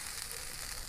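Zucchini, bell pepper and leek fry in a pan on a barbecue, giving an even, continuous hissing sizzle, soft and close, with no voices.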